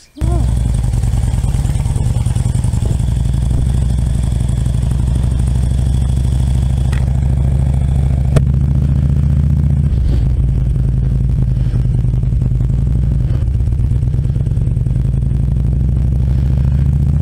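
A motorcycle rides steadily along, its engine droning loud and constant with a low mechanical hum and wind throughout, no breaks in the sound.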